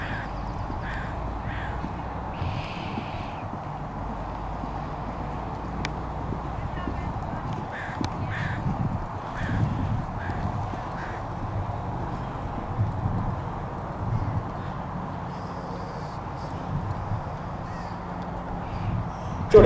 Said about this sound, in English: a 16-year-old Clydesdale Cross Bay gelding standing 16 hands high